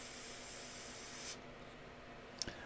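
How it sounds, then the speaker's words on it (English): Wicked red paint hisses steadily from a spray gun in a fine continuous stream, then cuts off, leaving a few faint clicks and taps. "So if I needed to get Wicked red to spray like this, I would do the same exact thing."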